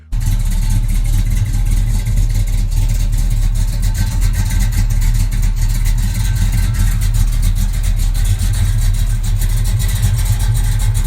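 A Plymouth Road Runner muscle car engine runs loud and steady throughout, a deep continuous rumble with a rough, pulsing texture as it works through the gears, with no voices over it.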